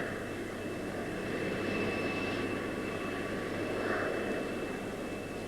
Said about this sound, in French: Burns, do you hear the right engine